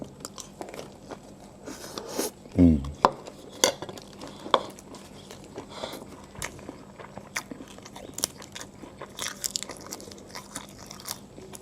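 Someone eats crunchy fried okra leaves stir-fried with fresh shrimp, giving sharp bites and chewing crunches mixed with the clink of cutlery on a plate, close up and fairly quiet.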